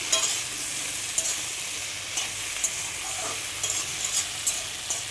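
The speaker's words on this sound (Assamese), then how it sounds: "চব্জিখিনি এনেকৈ লৰাই থাকিম অলপ সময়" Vegetables for a red pumpkin charchari fry in a pan with a steady close sizzle, punctuated by scraping, clicking strokes of a spatula as they are stirred, with no voices.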